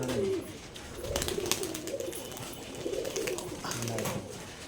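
Giribaj pigeons coo in soft, repeated low rolling calls, several birds close by, with faint background voices and shuffling.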